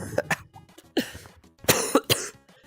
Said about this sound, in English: My cough does not want to allow me.